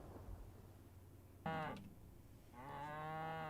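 Cattle mooing in the Asheron's Call video game: two drawn-out cow moos, the first sharp and loud, the second longer and steadier, over a low game background hum.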